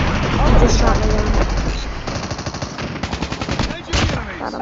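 Automatic gunfire in the video game Call of Duty, rapid bursts of machine-gun shots that merge into a dense rattle before breaking into distinct pulsing rounds, loud and close, with players talking over it.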